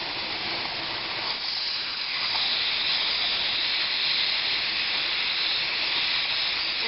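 Steam hisses steadily from a pressure canner used for canning beans, a continuous, fairly even rush of noise with no talk over it.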